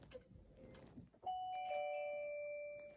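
A voice imitates a doorbell, giving a clear two-tone chime that rings out and sustains for over a second after some faint rustling, fairly close and alone.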